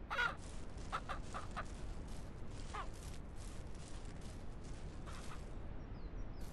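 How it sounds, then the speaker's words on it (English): Roosters in a ranch coop in the video game Ranch Sim cluck and squawk in short, scattered bursts over a steady low background hum, with no talking. "All the roosters in here."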